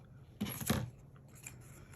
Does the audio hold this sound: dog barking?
no